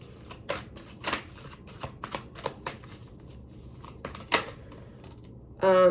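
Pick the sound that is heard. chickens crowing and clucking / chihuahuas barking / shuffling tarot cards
shuffling tarot cards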